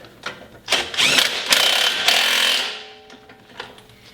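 A 7/8-inch socket tightens the knuckle arm nuts on the front suspension of an International Scout II, giving a close, gritty burst of ratcheting and metal clicks that fades into a quieter rattle.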